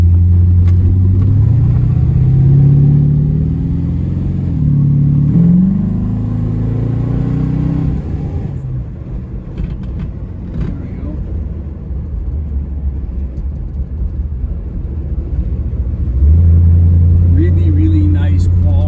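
A 1931 Ford Model A hot rod engine with dual quad carburetors rumbles deeply throughout, rising briefly as it revs, then settling to a steady idle before swelling again; someone talks over it.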